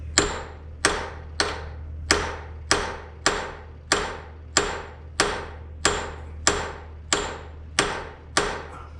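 Steady hammer blows during a 1938 Plymouth truck restoration, about a dozen evenly spaced sharp strikes with short decays, over a low constant hum.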